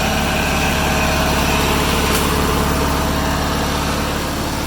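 A Bolens QT16 lawn tractor engine runs steadily with its PTO engaged, a loud, continuous close-up drone with constant low vibration and no pauses.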